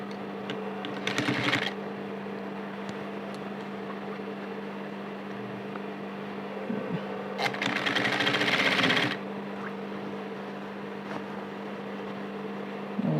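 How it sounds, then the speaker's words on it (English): A sewing machine stitches a gathered puff and flare sleeve in two short bursts, close and steady, with a quiet electrical hum running underneath between them. "So start sewing."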